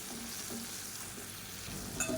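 Onions sauté with chili powder and turmeric on a medium flame for a pepper kuzhambu, giving a steady close sizzle with soft stirring scrapes and a brief utensil clink near the end.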